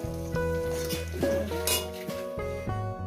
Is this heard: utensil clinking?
yes